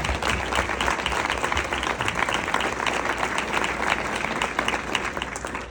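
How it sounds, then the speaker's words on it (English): An audience claps for a woman who has stood up to be honored during a speech at an MS fundraiser, a loud, full round of many hands beating fast and continuous throughout, with faint crowd murmur beneath. "Julie needs a round of applause."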